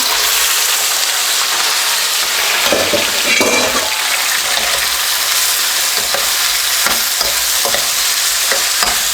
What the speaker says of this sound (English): Let's cook the meat until it is golden brown.